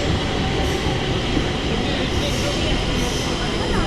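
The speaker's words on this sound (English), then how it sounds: "This is a metro train." A Stockholm metro train roars steadily at close range, a loud continuous rumble of rolling wheels and carriage noise with no break throughout.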